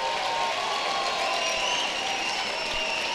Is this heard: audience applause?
yes